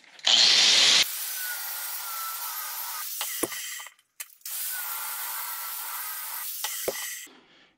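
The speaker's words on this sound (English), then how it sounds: "I'm just going to try and cut right in the center of this weld." A power cutting tool grinding into the center of a weld on a driveshaft yoke in a home garage, a loud, steady abrasive whine in two long passes with a brief stop between, close up and without speech.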